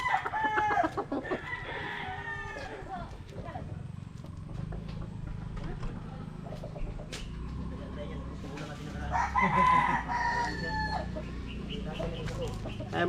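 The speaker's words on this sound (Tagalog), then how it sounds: "Saka magandang manok to." A rooster crows twice, once early and again later, amid clucking hens and steady outdoor background noise.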